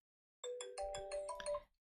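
Xiaomi 17 smartphone ringing for an incoming call: a clear melodic ringtone of chiming notes starts abruptly and plays for just over a second, close and fairly quiet, with no talking.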